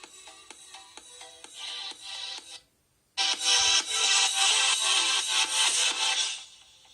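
Music plays from the built-in speakers of a Xiaomi Mi Mix phone: a thin, bright, beat-driven track at moderate level that cuts out briefly, then returns fuller and louder before fading, with no talking.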